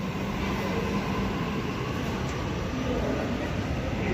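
A train rumbles steadily through Central station, a continuous loud roar of rail noise filling the whole moment.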